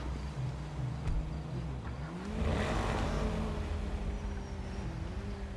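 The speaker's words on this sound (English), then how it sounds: "it has one of the coolest startups, the most badass startups for a car" An armored custom car in GTA 5 starts up, its engine catching and swelling into a loud, throaty rev midway before settling into a steady, rumbling idle.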